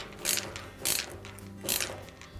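Screws being snugged down on the siphon break connector elbow of a Maytag washer, three short bursts of ratcheting clicks spaced about seven tenths of a second apart, close and moderately loud over a low hum.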